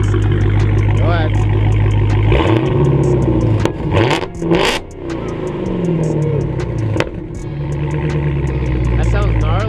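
A Dodge Hellcat idling with a deep, loud exhaust rumble, broken by a couple of quick throttle blips that rise and fall in pitch before settling back to a steady idle, with voices talking over it.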